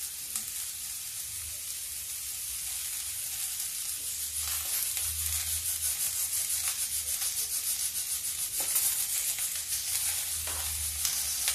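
Onions and garlic frying in a pan, making a steady, close hiss of sizzling with soft scraping and stirring sounds, no voices.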